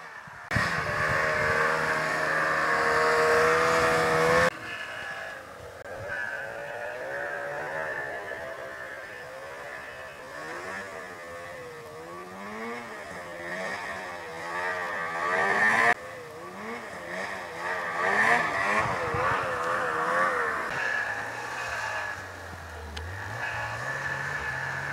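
A Ski-Doo 872 E-TEC snowmobile engine revs hard and rises in pitch, whining up and down through repeated throttle bursts, loud and fairly close with some wind noise.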